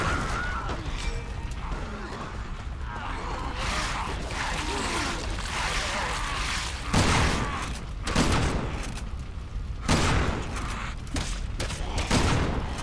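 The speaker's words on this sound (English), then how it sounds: "I should probably be saving the shotgun" Shotgun blasts in Resident Evil 6, Leon's campaign aboard a train, several heavy booming shots spaced apart over a constant rumbling game background.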